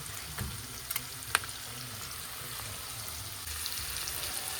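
Dried red chillies and onion fry in a pan, a continuous soft sizzle with a few small pops and crackles, steady and close throughout.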